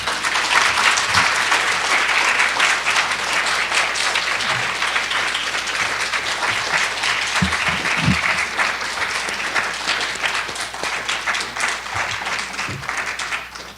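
A lecture audience gives sustained applause, a dense steady wash of many hands clapping for the whole stretch, loud and even with no pause.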